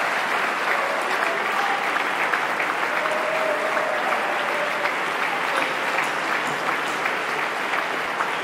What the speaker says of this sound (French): je voudrais qu'on lui offre des acclamations et des ovations